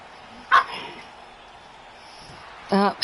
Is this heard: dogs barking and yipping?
yes